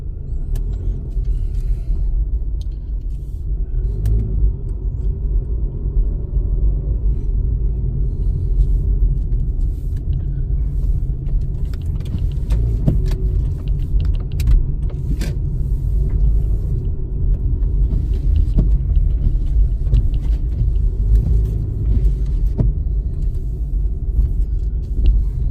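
2012 Toyota RAV4 with a low oil pressure warning issue heard from inside while driving on the road, a continuous low rumble of engine and tyre noise with occasional light knocks and rattles, and no talking.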